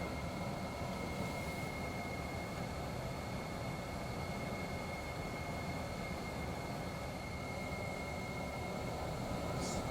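A steady, loud roar of an aircraft taking off on runway 33 fills the cabin, with a constant droning hum and rumble throughout and no speech on top.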